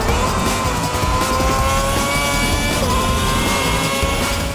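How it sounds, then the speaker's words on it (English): Formula One cars roaring in the F1 2010 racing game, loud high-revving engine whine with shifting pitch and tire squeal, dense and continuous up close. "the roar of competing cars keeps you well aware of their positions on the track."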